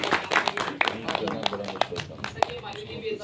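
Audience applause welcoming the chief guest at a college gathering in Mirpur: scattered, uneven hand claps from a crowd, moderately faint, mixed with murmuring voices.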